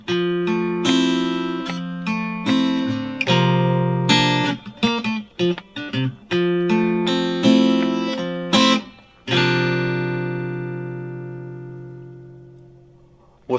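Guitar plays the intro of a song, a short riff of plucked notes and chords in clear phrases with brief gaps, ending on a long ringing chord that slowly decays; no one speaks.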